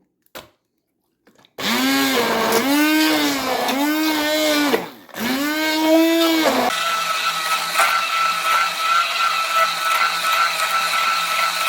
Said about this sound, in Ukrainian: Тепер все це нам треба подрібнити звичайним погружним блендером.